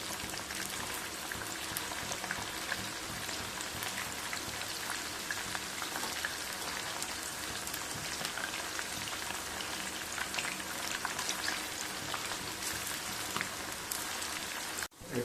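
Chicken 65 shallow frying in hot oil in an outdoor village kitchen, a steady dense sizzle and crackle that continues evenly at close range with no talking.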